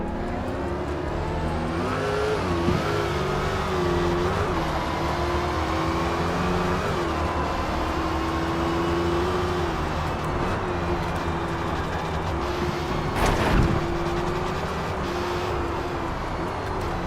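A Dodge Hellcat's supercharged V8 roars steadily in the racing game Forza Motorsport, holding a sustained tone with shifting pitch throughout, plus a brief sharp burst near the end.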